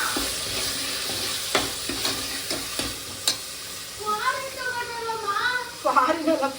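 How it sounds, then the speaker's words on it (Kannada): Tomatoes frying in a pan with ginger-garlic paste, a close, steady sizzle and stirring scrapes, with someone talking over the second half. "ಈಗ ಶುಂಠಿ ಬೆಳ್ಳುಳ್ಳಿ ಪೇಸ್ಟ್ ಹಾಕಿದ ತಕ್ಷಣ ಟೊಮೊಟೊ ಹಾಕೋಬೇಕು"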